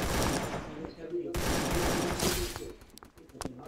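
Rapid bursts of gunfire in a Craftland shooting game, dense and continuous for the first few seconds, then thinning to scattered sharp shots near the end.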